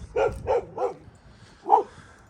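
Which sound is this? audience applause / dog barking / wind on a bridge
dog barking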